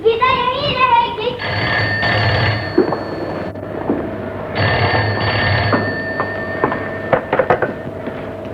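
An old-fashioned telephone bell rings in a domestic interior, loud and sustained, in two long bursts separated by a short pause, with brief voices and household clatter around it.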